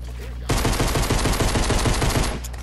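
Rapid pistol gunfire in a video game, a steady stream of close, loud shots fired in quick succession for about two seconds, starting abruptly and cutting off sharply.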